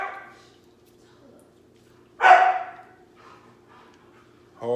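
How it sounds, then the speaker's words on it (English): A single loud dog bark bursts out mid-clip, close by in a quiet room, with faint speech fragments before and after. "Hard-headed dog, you know."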